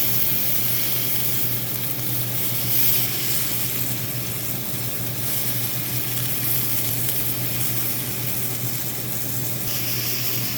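Meat sears in a hot pan before going into the oven, giving a steady, even sizzle and crackle that runs unbroken and fairly close, with no talking.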